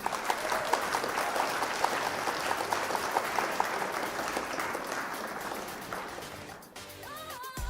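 Sustained applause from a crowd after a Flesh and Blood card game match, steady dense clapping for most of the stretch, then tapering slightly near the end.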